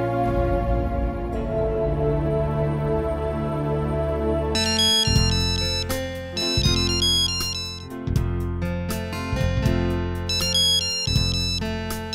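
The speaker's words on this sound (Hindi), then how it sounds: "हाँ बंटी बोलो, क्यों फोन किया?" A melodic electronic phone ringtone plays in repeating phrases, loud and close, looping several times with brief pauses between bursts.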